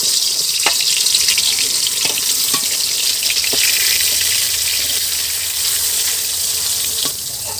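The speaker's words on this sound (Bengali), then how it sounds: "এবার কচুগুলো প্রথমে ভেজে নেব।" Taro pieces coated with salt and turmeric fry in refined white oil in a wok, giving a steady, close hiss and sizzle throughout with a few brief clinks.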